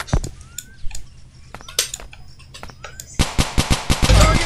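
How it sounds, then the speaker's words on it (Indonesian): Rapid bursts of automatic gunfire and single shots from a video game firefight, with sharp repeated cracks through most of the clip and a dense volley near the end, plus faint chirping sounds. "Tembak Leo, Leo."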